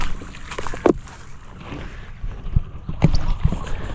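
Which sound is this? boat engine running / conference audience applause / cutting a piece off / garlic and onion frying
boat engine running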